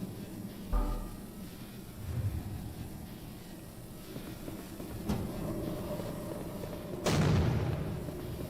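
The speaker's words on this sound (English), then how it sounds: "It was a frag grenade." Frag grenade detonating in a video game, a sharp booming blast near the end following a couple of smaller thuds and impacts over a low rumbling ambience.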